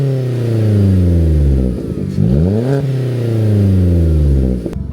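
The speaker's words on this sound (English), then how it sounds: "It has actually still got the Cobra exhaust system on it." A Vauxhall Corsa engine revs hard through a loud, throaty Cobra sports exhaust, climbing and falling in pitch twice before cutting off near the end.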